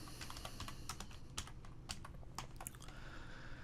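Rapid clicking keystrokes on a computer keyboard, a steady, irregular patter of light taps close by and fairly quiet, with no talking over it.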